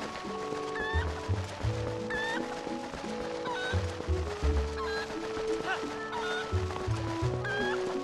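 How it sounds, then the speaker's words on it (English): A chicken in the video game Twilight Princess HD clucks in short repeated bursts over steady game music, recurring roughly every second or two. "let me grab that chicken"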